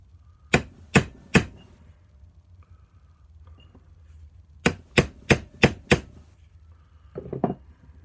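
Sharp metal hammer blows strike a Record No. 3 vise to knock it off a bar in a workshop: a quick burst of three, a pause, then five more in steady rhythm and a couple of softer knocks, close and loud.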